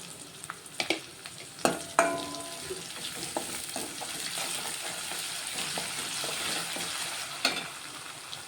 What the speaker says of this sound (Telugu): ఇవైతే ఫ్రై అవుతున్నాయి ఇప్పుడు ఇందులో కొంచెము అల్లం ఎల్లిగడ్డ వేసుకుంటానండి